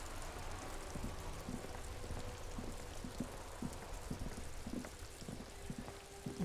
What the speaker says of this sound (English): Nice rain noise though.